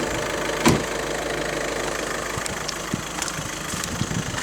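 A VW Golf Mk6 idles with a steady engine hum and light ticking, broken by a sharp knock near the start and a few faint clicks later.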